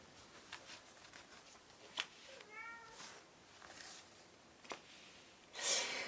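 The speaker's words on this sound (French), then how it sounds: "Alors le chat est en train de râler." A cat meows in a complaining, grumbling way, a few short cries and a drawn-out wavering call heard fairly close against a quiet room.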